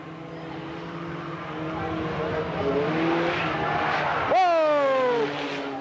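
Race cars roar around Eugene Speedway in 1991, engine drone rising and a sharp high whine sweeping past near the end, with a commentator talking over the action.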